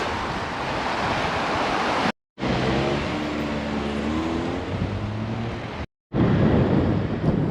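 Steady wash of sea surf at Ginolu Cove, Çatalzeytin, Kastamonu, Turkey, with heavy wind buffeting the microphone, broken by two short silent gaps.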